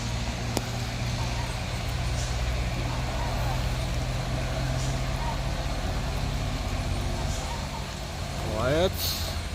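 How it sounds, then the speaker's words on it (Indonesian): A Pertamina tanker truck on a mountain road at Puncak Menggasing: a steady low engine drone from the vehicle, with a brief hiss near the end and people talking over it. "Di sana juga ada truk tangki"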